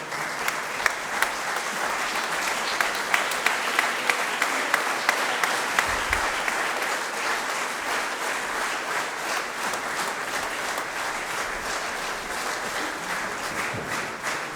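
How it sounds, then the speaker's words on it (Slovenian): An audience applauds a tamburica orchestra at a 30th anniversary celebration, a dense sustained wash of many hands clapping that holds steady throughout, with a few louder claps near the start. "Še en veliki aplavz za kogovske dečke."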